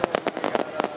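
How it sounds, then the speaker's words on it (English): Fireworks burst over a festival night, a rapid string of six or seven sharp cracking bangs spaced unevenly across a second, fairly close and loud, with no voices. "the night ended with a fireworks display."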